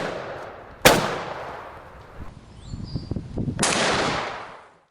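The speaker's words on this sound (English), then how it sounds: "so you fire a shot out in front of them" A single sharp, loud shotgun shot fired while hunting, a warning shot out in front of game to turn it back into the drive, followed by rustling and a second burst of broadband noise.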